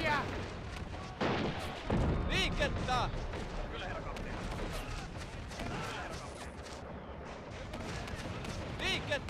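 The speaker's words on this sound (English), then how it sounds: "Love the sound of mortars in the morning." Mortar fire from Men of War: Assault Squad 2, a World War II strategy game: repeated booming blasts and gunfire crackle rolling through a busy battle mix, with someone talking over much of it.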